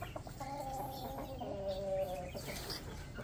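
Eight laying hens in a small backyard poultry pen cluck and murmur in a drawn-out, nasal warble, close and moderately quiet with no talking.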